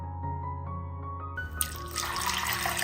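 Water pours into a container of sago to soak it, beginning as a thin rising trickle and swelling into a fuller, splashing stream, close and fairly quiet with no talking.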